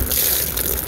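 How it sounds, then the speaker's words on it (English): Water from a bucket is poured out while a pool liner is being changed, a brief loud gushing splash that runs on without a break for under a second. "I'm going to have my big strapping son dump this bucket out for me."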